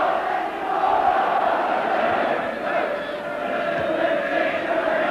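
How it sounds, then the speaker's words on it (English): A dense football stadium crowd at a 1983–84 Oxford United versus Everton match roars continuously, a loud, steady wash of massed voices and chanting with no breaks. "Just look at that crowd."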